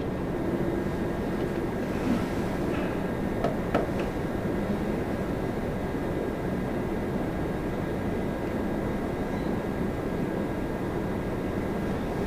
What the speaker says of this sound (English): Transat 189 A321 Neo coming in from Paris.